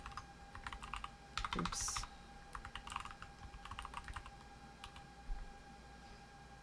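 Typing on a computer keyboard while entering a password in an Ubuntu installer, a steady run of quick close key clicks with brief pauses and a short spoken exclamation partway through.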